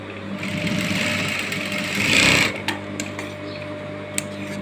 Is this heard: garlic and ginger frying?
no